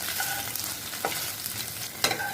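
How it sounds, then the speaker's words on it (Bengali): Boiled soy chunks coated in turmeric and salt fry in soybean oil, a steady close sizzle broken by a few stirring scrapes and clinks, no talk. "একটু হলুদ লবণ মাখিয়ে সয়াবিন তেলে ভেজে নেব"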